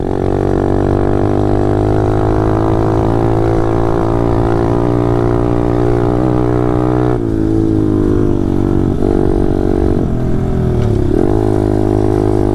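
A loud pit bike engine holds a steady, throaty tone, then drops in pitch and eases off as it decelerates under engine braking, with no talking.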